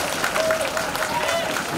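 A church congregation applauding at a Methodist temple dedication, a dense wash of steady clapping with voices mixed in throughout.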